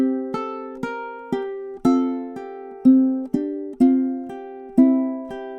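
Ukulele plays measures 21 and 22 of Deck the Halls, with a steady run of plucked notes and small chords, each clearly attacked and ringing briefly, close and clean without voices.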